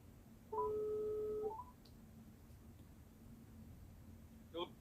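A telephone line right after a call suddenly cuts off: a sustained two-tone beep lasting about a second, then quiet line hiss and a brief pair of faint beeps near the end.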